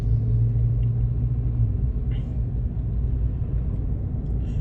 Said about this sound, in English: truck behind us carrying a bunch of scrap metal